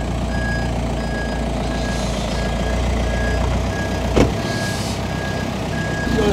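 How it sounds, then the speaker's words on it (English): A VW Caddy van rolling along while driving on the handbrake, giving a loud, steady low engine and road rumble with a repeating high beep over it and a brief clunk near the end; no voices. "So we're driving here on the handbrake"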